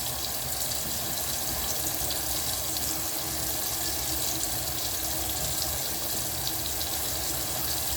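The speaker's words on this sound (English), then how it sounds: "And I'll wash down my hands." Water from a tap runs steadily and constantly during hand washing, close and evenly loud throughout, with no talk.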